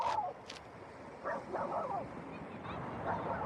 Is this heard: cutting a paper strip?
no